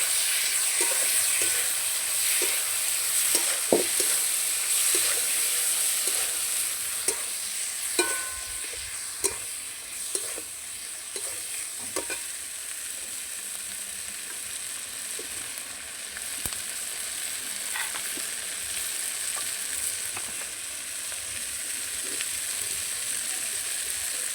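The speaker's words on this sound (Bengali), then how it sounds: "পরিমাণ মতো হলুদ স্বাদ মতো লবণ দিয়ে ভালো করে মশলাটা কষিয়ে নেবো" Steady sizzling of spice paste with turmeric and salt frying in a pan, with occasional light clinks and scrapes of stirring; no talking.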